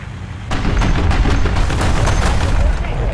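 Repeated heavy cannon shots from an AB 41 armored car in War Thunder ground battles, several booming reports in quick succession over a loud continuous engine rumble, close and dense.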